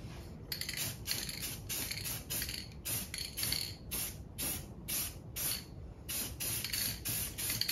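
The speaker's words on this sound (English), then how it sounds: "time to start my paint. I'm using Krylon Color Max" A Krylon Color Max satin black spray can hisses in short repeated bursts across a 1967 Camaro firewall, each spray a steady sharp hiss with brief gaps between, close and fairly quiet.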